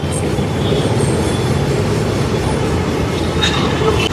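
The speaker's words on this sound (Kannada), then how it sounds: "ಮೆಟ್ರೋದಿಂದ ಅರ್ಧ ತಲೆನೋವು, ಸೌಂಡ್ ಜಾಸ್ತಿ." A metro train runs with a loud, steady low rumble, faint wheel squeal and a few clanks, continuous throughout.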